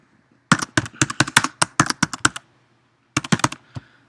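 Computer keyboard keys tapped in a quick burst of about a dozen crisp clicks, a pause, then a second shorter flurry of keystrokes, close and clear with no talking.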